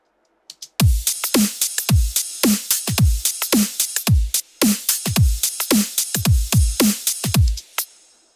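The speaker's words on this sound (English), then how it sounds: "the main drum groove contains the kicks, snares, hats, some rides, crash layer to fill up the top end a little bit" Main drum groove of kicks, snares, hats, rides and a crash layer filling the top end, playing a steady, punchy pattern of close, loud hits for about seven seconds.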